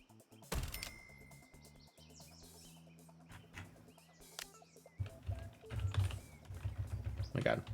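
Computer keyboard typing in a cult-management video game comes as quick runs of light clicks, with a person talking over parts of it and faint bird chirps in the background.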